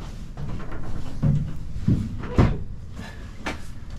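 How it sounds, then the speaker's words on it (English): Door of an enclosed U-Haul 6x12 trailer being opened from inside: a few close, dull knocks and thumps over a low rumble, with one sharper clunk near the middle. "Open the door"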